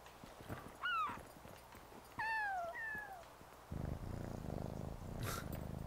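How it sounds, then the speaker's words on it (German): A cat in the video game Yonder: The Cloud Catcher Chronicles meows twice in rising and falling tones, then purrs steadily and close over a quiet ambient game background. "Schnurrt."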